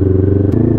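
A Kawasaki Ninja 400 motorcycle engine idles on a cold start while warming up, a close, loud, steady low rumble with a fast pulsing throb and a small clatter partway through.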